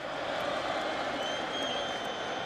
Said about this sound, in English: Crowd chanting T.O.